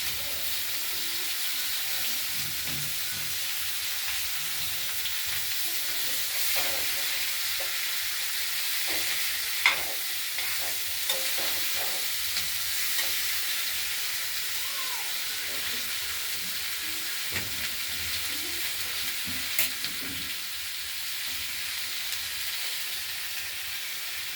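Cabbage fries in a pan with a continuous broad hiss and occasional light stirring scrapes and taps, close and even throughout without speech.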